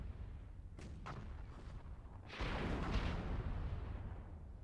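Cannons fire in a video game battle, a few sharp booms early followed by a louder, sustained rumbling barrage that stays fairly distant and low in level, with no talk over it.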